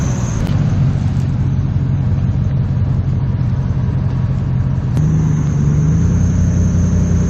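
The low, rumbling engine of an old pickup truck towing runs steadily throughout, with a mid-pitched drone and a brief shift in tone partway through.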